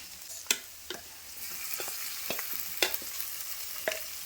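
Mustard seeds, chillies and onion fry in hot oil for a Kerala thoran, giving a continuous close sizzle with scattered spatters and a few stirring clinks, and no talking.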